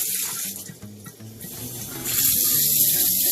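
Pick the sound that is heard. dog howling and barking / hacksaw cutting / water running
water running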